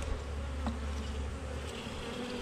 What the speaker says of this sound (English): Right away you can see the bees come, okay?